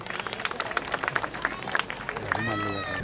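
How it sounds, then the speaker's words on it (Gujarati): A seated audience at a civic ceremony for a community hall in Fulsar, Bhavnagar, breaks into scattered, uneven clapping that swells briefly, with crowd murmur underneath. "આપણે સૌ તાળીઓના નાદથી આ સન્માનને વધાવીશું."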